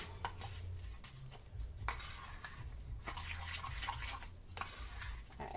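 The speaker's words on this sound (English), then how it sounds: "And I just mix that up nice and well." Candied pecan topping for sweet potatoes is stirred in a bowl, giving repeated close scraping and clattering strokes in an uneven rhythm. No one speaks.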